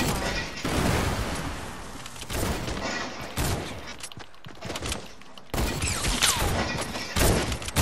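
Rapid exchange of gunfire in a first-person shooter video game, loud bursts of automatic shots and thuds broken by brief lulls, with a voice faintly present.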